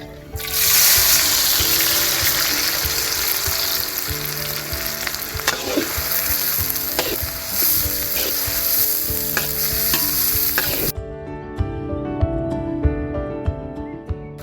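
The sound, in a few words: chopped onions frying and being stirred in oil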